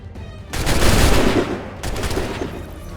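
Musket volleys in the Assassin's Creed 3 game on Xbox 360: two loud, crackling bursts of massed gunfire, the first long and dense, the second following after a brief lull.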